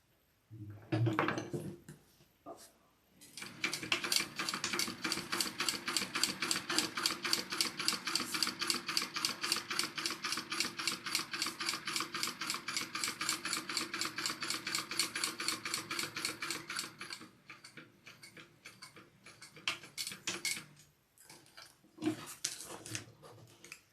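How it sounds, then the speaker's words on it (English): A sewing machine topstitches a wallet lining in one long, even run of fast rhythmic stitching. Brief handling noises come before and after the run. "I'm going to top stitch just along this top line, and that will catch this back lining flap piece"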